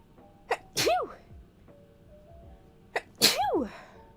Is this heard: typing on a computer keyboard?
no